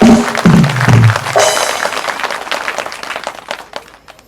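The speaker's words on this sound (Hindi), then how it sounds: "बधाई इनके लिए जोरदार ताली" Villagers clap at a Shrimad Bhagavat Katha discourse in Patrapara village, a short burst of applause mixed with a voice and music at the start, then thinning claps that fade out.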